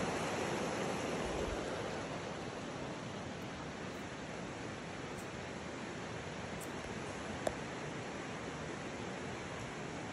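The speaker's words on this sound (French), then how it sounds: "Une rivière avec des rapides, comme un panorama." Steady broadband rushing of fast-moving river rapids near Port Alice, constant and enveloping for the whole stretch, with no voices.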